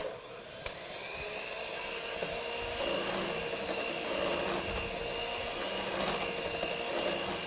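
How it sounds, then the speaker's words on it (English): An electric mixer whisks cake batter for a pineapple upside-down cake with a steady, unbroken whir at moderate loudness throughout, with no voices. "now I'm going to continue to whisk at a slow speed, increasing to medium"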